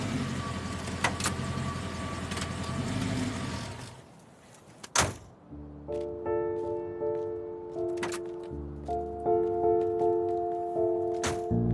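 A car's engine rumbles steadily while driving, then drops away as the vehicle stops, followed by a sharp door-like click and a series of mechanical whirs and clicks from the stationary car.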